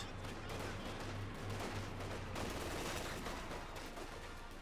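Infantry gunfire from a Company of Heroes 2 match sounds as dense, continuous rattling bursts that overlap into a steady barrage throughout, fairly quiet overall and with no talk.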